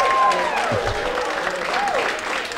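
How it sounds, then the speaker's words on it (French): Church congregation clapping in applause for the women during a sermon, a steady wash of hands under overlapping voices and a sustained tone. "Donc on acclame les femmes."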